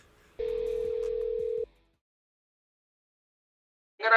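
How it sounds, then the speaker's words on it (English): A telephone call placed before a phone conversation between rugby league figures: a steady electronic ring tone holds for about a second, cuts off into silence, then a burst of connection noise follows. "We had the exclusive phone call between Billy Slater and Josh Papali'i"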